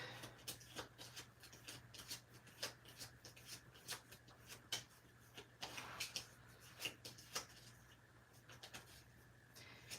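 Board game cards are shuffled for a solo game of Honor's End, quiet close riffling and rapid papery flicks in irregular bursts over a faint steady hum.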